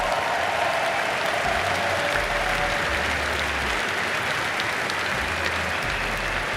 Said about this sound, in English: all of the competitors deserve a round of applause